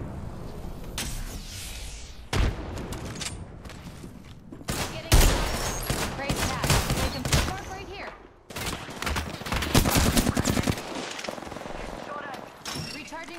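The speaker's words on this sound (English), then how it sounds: "That's another squad shooting at us." Enemy squad gunfire rattles in Apex Legends, with repeated bursts of automatic fire and single shots in clusters, loud and near, broken by short pauses and game sounds. Game voice lines are heard among the shots.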